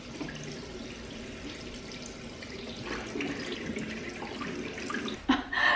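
A bathroom tap runs into a sink to add water to a milky cleanser, making a steady, close splashing stream that ends in a brief louder gush and clatter.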